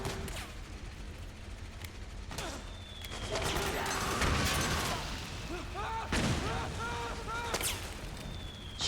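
Gunfire and impacts in the stealth action video game Metal Gear Solid 4, played on original console hardware, with repeated shots and crashes that swell in the middle, mixed with voices and other game effects.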